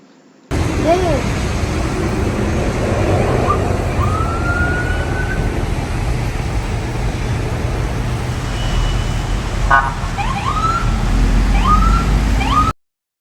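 An emergency vehicle siren wails through congested, flooded traffic in Dubai, with rising and falling tones over a steady roar of road noise and engines across the whole stretch.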